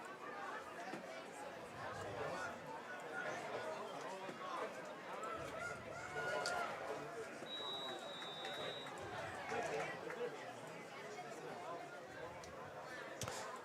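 Crowd at a high school football game between the Hudson Raiders and E.C. Memorial, a steady wash of distant chatter and cheering throughout with a brief whistle partway in, under ongoing talk.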